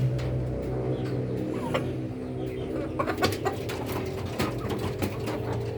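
Several Rhode Island Red breeder chickens cluck and call close by in a dense, overlapping chorus with sharper clucks toward the end.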